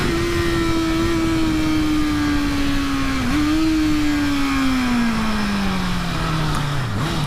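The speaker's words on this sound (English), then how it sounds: "Love that sound of the inline 4." A 2018 Honda CBR650F inline-four engine howls on the gas, loud and close, its pitch rising and falling with the revs, with a dip partway through and another toward the end, no talk.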